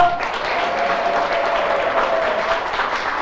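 Audience applauding a speaker at a business presentation, a full, even burst of crowd clapping lasting about three seconds, with a faint steady tone beneath and no voices.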